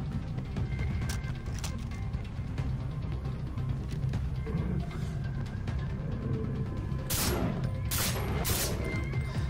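Far Cry 3 gunfire, bursts of shots over a constant low rumble, with a few sharp loud cracks clustered toward the end.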